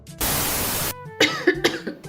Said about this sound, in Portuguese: esqueci de fechar pra tossir